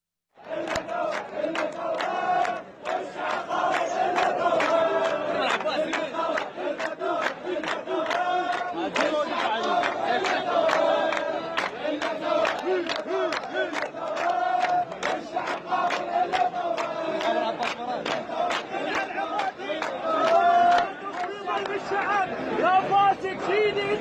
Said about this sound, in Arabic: المتظاهرون في ساحة التحرير رددوا هتافات ضد العملية السياسية وضد الأحزاب السياسية